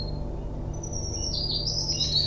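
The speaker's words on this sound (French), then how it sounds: "Le chant des oiseaux venant de sa fenêtre lui amenait un sentiment de paix et de bien-être." Birdsong drifts in through a hospital room window as a story sound effect, with high chirps and trills rising over a steady low hum and growing busier toward the end.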